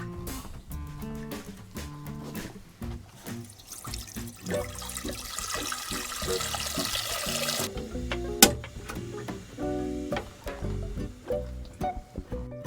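A kitchen tap runs for several seconds as water is drawn into a pot to cook a vegan gluten-free lasagna, a bright steady gush set among intermittent clinks and knocks of cookware.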